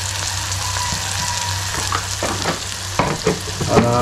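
Turmeric and masala fry in a pan with onion and tomato, giving a steady close sizzle with a few scraping stirs toward the end, and no voices.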